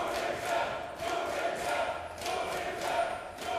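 Esports arena crowd at a League of Legends championship match chanting and cheering for the teams, a broad rhythmic roar with pulsing swells, distant and fairly faint.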